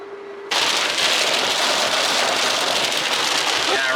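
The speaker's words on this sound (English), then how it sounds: "it rained out" Heavy rain pounds steadily on a combine harvester, a loud, dense hiss that starts abruptly and continues without pause.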